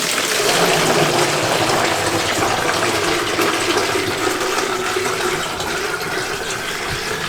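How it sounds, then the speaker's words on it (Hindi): Water gushes steadily into an empty 1.5 litre plastic bottle for a recipe preparation, a loud, continuous pouring rush lasting the whole stretch, close and with no talk over it. "इसके अंदर पानी शामिल कर दें।"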